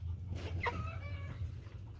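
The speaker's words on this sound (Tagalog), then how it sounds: "dami na pong manok" Faint chickens on a Philippine farm give a quick cluck and a rising squawk mid-clip over a steady low hum and quiet outdoor background, with no talking.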